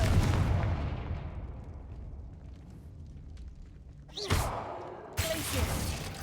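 A Confringo fire spell from a video game explodes with a loud booming blast that rumbles and fades out, followed by two sharper cracking bursts near the end.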